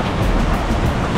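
Creek water rushes in a steady, full-bodied wash, loud and close with no voices over it.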